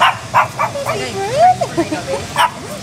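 Several high, short puppy yips and barks come in quick bursts, with whiny squeaks between them, close by amid some background voices in Hanoi, Vietnam.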